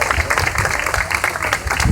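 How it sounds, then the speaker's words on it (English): An audience claps after a young man sings the national anthem at a morning gathering, making dense, continuous, fairly loud applause with a faint murmur of voices underneath. "let's continue to clap"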